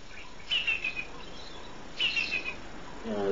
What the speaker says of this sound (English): this is the brown-hooded kingfisher